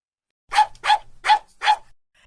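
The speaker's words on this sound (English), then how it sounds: "D for dog." A dog barks four times in a quick, even series, sharp and close, with silence before and after.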